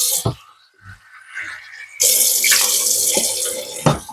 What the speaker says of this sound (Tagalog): isa sa 3 cup ng tubig ang ilalagay.